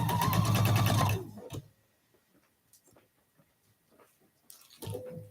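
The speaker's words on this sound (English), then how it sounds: "we're just going to have to take a little more care going through the sewing machine" A sewing machine stitches a quilt block in a fast, even mechanical whir lasting about a second, stops, then leaves quiet ticks and light handling noises before whirring briefly again at the end.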